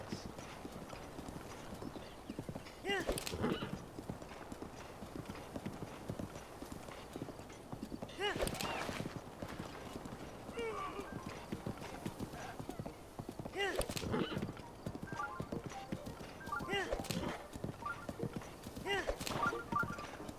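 Hooves of a fast horse clip-clop at a steady gallop through Zelda: Breath of the Wild, with periodic louder thumping bursts over continuous game ambience, while someone talks over it.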